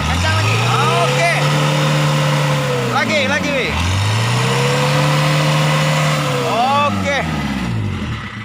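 A 1995 Isuzu Panther manual car engine revs repeatedly, its pitch swelling up and dropping back down in long pulls, loud and close, with brief speech in between.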